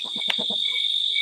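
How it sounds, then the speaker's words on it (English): A steady high-pitched insect trill, like crickets chirping, runs continuously while a few soft low thumps sound near the start. "And what you're hearing now are crickets,"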